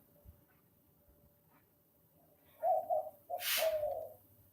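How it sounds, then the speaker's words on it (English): A bird in a tree above a hammock in southern New Mexico gives a short series of dove-like coos, moderately close and clear over a quiet outdoor background, with one louder, breathier burst near the end. "There's a bird making a funny sound."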